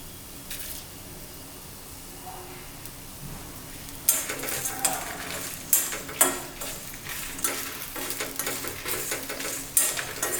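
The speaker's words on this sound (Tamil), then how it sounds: "அது சீரகம் போட்டுக்கலாங்க." Cumin seeds frying in a pan with coriander seeds for an idli tomato kuzhambu, a quiet stretch then a louder burst of sizzling with scraping stirs and light pan clatter.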